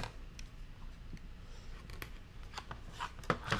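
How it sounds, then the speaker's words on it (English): Scissors trim a nylon zipper with a series of quiet, crisp snips and rustles, a few sharper cuts near the end, faint and close with no talk. "So the first thing I'm going to do is trim the zipper on one side."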